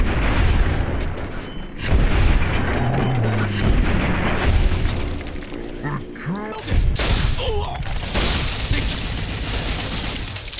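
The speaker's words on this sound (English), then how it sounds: "I can win the quick draw with the general with VATS, and then take down 3 of the rangers in the same round." Gunfire from a Fallout: New Vegas shootout against a general and rangers, with dense bursts and booming shots through most of the stretch, some sharper cracks near the end, and loud, continuous action throughout.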